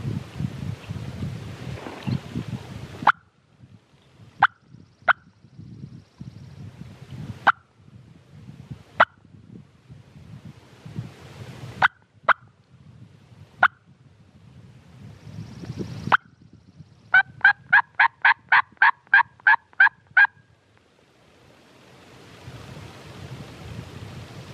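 A Merriam's wild turkey gobbles far off in open Washington country, heard among sharp repeated calling notes, a quick rapid series of call notes and light wind noise.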